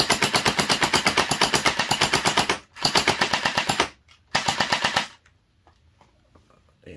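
A mini AK-47 gel blaster fires in rapid full-auto bursts: a long rattling string, a brief pause, then two shorter bursts before it stops and falls quiet, close and loud.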